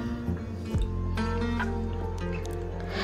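Raw banana pieces being washed in water before going into a cooker, giving soft splashing and squishing sounds over a steady low hum, close by and moderate in volume.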